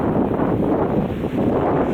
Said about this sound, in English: It's starting to get a little windy out,